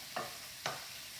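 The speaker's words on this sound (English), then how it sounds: "make sure that you mix the flavours of the meat in with the carrots and the tofu as well" Beef stir-fry with carrots and tofu being stirred in a pan, two brief scraping strokes over a faint, steady sizzle.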